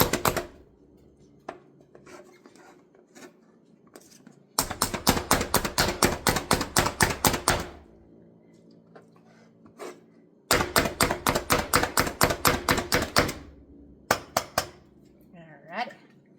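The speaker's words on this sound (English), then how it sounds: "I like to make kind of little piles and give those a little chop" A knife chops spinach and artichoke on a board for a hot, creamy dip, in two fast bursts of sharp, evenly paced taps with a few scattered knocks between them, close and clear.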